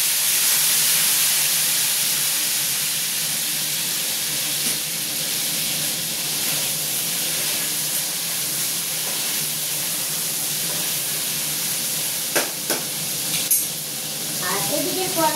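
Chopped cabbage frying in a large wok gives a loud, steady sizzle and hiss that runs unbroken, with a few sharp clinks near the end and no talking.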